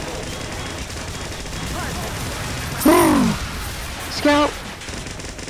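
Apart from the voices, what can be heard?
Super Needle Gun firing in video game TF2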